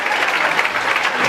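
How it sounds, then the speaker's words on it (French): An audience applauds at a comedy show, a dense, steady wash of clapping hands that fills the whole moment without a break. "je voudrais simplement vous demander de vous applaudir"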